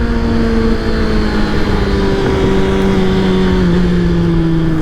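A Kawasaki 636 stunt bike rumbles close and loud with a steady engine hum, its pitch easing slowly downward and then holding, with no talk.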